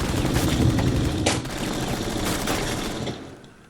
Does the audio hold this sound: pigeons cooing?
no